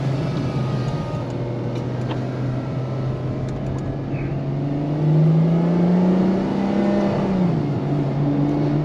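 A Ferrari F12 TDF V12 drives straight ahead at steady cruising speed. A continuous engine drone and whir is heard from inside the cabin, rising in pitch and loudness midway as the car speeds up, with no talking.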